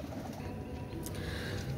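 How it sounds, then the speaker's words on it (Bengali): A pigeon cooing at a bird breeder's loft, a soft low murmuring coo heard faintly against background noise for a moment. "অনেক ভালো কবুতর।"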